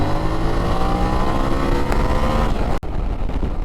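A 2023 Yamaha Tenere World Raid motorcycle accelerates hard along the road, its engine a loud, close, rising roar with a brief gap, likely a gear change, near the end.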